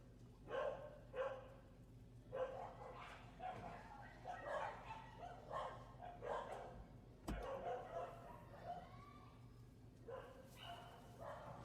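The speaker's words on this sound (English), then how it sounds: "There's a world of unleashed dogs" Several unleashed dogs in the countryside bark in repeated bursts, a mix of yips and bow-wows from nearby, with a sharp knock partway through and a steady low hum underneath.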